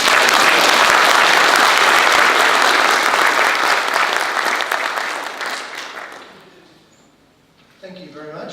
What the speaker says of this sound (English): can you all give both him and the City of Warrnambool a huge round of applause